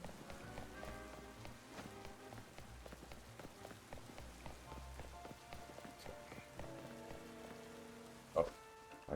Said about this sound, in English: Actually, while it's raining